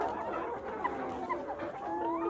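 Layer hens clucking together in a crowded pen, a steady overlapping chorus of soft clucks and short calls at close range, with no talking.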